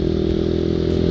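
A Yamaha RX King motorcycle engine runs at a steady, buzzy idle, close and loud with an even pulsing drone and no voices over it.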